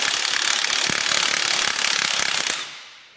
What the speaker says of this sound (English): Using a 9/16 ratchet and wrench, remove